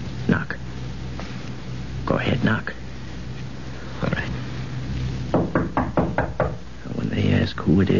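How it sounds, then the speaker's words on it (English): Knocking on a door in an old radio crime drama, several separate bursts of raps spread across the stretch, mid-distance, with people talking quietly between them. "Now you stop at the room, knock on the door, and say it's you."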